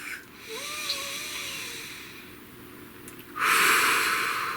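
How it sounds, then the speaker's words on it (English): Slow deep breath drawn in through the nose, a soft airy inhalation rising over a couple of seconds, then a louder hissing exhale close to the microphone, no talk. "Please take a nice deep breath."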